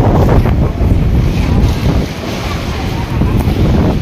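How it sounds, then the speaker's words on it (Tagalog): Strong wind buffets an outdoor microphone in a loud, steady low roar that continues for the whole stretch, with rumbling gusts that rise and fall but never stop. "Taas ang hangin."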